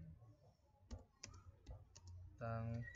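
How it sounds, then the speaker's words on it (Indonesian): Typing a MySQL query on a computer keyboard, a few scattered soft key clicks, faint and close, followed by a voice speaking over the last part. "kita ketikkan select bintang"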